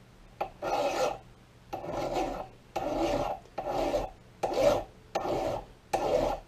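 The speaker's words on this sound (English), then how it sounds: "But let's start filing this thing down and see if we can get everything nice and smooth." File rasping over a patched gun barrel in seven steady strokes, each about half a second long, close and loud with brief pauses between them and no talking.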